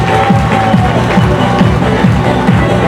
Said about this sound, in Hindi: तालियां हो जाए अपने आप के लिए